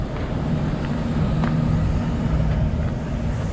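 A truck with a leaking tire rumbles nearby with a steady low drone and idling engine hum, a few faint clicks and taps over the top.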